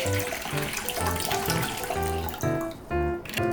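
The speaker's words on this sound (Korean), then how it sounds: "물 500ml를 부어줍니다" Water for ramen, 500 ml, poured into a pot, a steady rushing splash that runs continuously with slight shifts in tone, against a background of music with a strong harmonic, tonal character.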